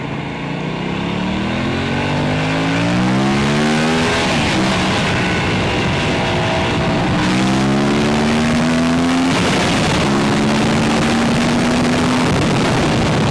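Loud and close, an Aprilia RS457 sport motorcycle launches from a stop and pulls hard. The engine note rises steeply through several gear changes, each upshift dropping the pitch before it climbs again, with no voices.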